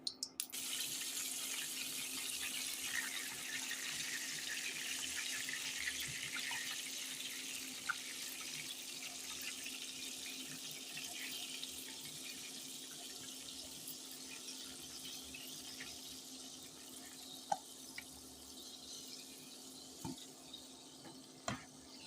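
Kitchen tap water running steadily to rinse the peels off ground garlic paste, a constant hiss with a few small clinks, moderately near and without talk.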